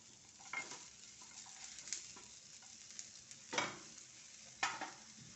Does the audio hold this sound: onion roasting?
yes